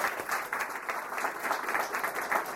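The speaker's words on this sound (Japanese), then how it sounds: "今一度大きな拍手をお願いいたします" An audience gives a lecture speaker a round of applause at a Japanese talk, a dense steady patter of many hands clapping at moderate volume, with no speech over it.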